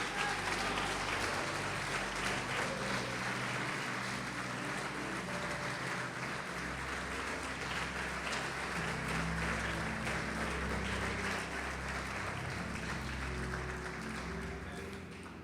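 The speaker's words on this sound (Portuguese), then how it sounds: "Agora você pode aplaudir o Senhor Jesus." A church congregation applauds during a sermon, dense sustained clapping filling the hall for about fifteen seconds with a low musical drone underneath, gradually tapering toward the end.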